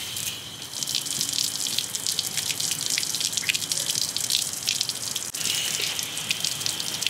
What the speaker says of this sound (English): Give it that last rinse.